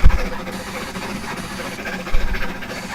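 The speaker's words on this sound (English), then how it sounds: "here a train just coming in from Minehead" A heritage train on the West Somerset Railway pulls into Dunster station from Minehead, a steady low rumble and hiss with a couple of heavier thumps at the start and again near the end.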